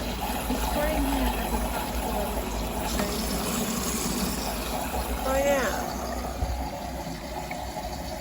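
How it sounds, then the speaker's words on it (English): Water pours into the drum of an LG front-load washing machine during a cleaning rinse cycle, a steady rushing splash that runs under nearly continuous nearby talk. "It's pouring water in there."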